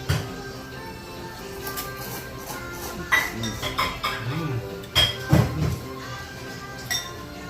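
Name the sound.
clinking bowls or glasses in a toast over ramen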